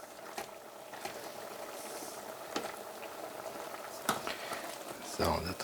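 Onion chutney simmering in a pot, a steady low bubbling hiss with occasional pops and clinks, while people talk at a distance.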